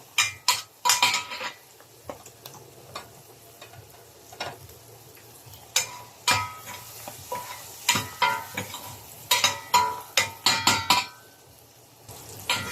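Green string beans tumble into a pan of mussels for a Filipino sautéed dish, giving close, sharp clatters and scrapes of utensils against the cookware in irregular bursts, with no one talking.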